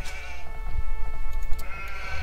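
Sheep bleat in Age of Empires II HD during a 4v4 Land Nomad match, a steady wavering cry that runs the whole stretch over a dense game soundscape.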